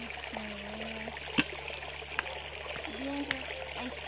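River water trickles and flows steadily outdoors in the countryside, a soft continuous wash with a few small splashes, while faint voices hum or murmur in the background.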